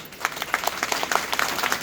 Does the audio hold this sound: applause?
yes